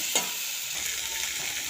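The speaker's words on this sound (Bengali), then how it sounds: "এবার আমি এর মধ্যে ডিমটাকে দিয়ে ভালো করে কষিয়ে" Eggs and potatoes being sautéed in a pan, a steady close sizzle with one sharp scrape of a utensil near the start and softer stirring scrapes afterward.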